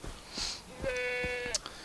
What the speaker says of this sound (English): I tried chasing this goat.